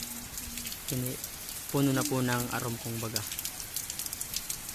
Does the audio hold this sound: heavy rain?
yes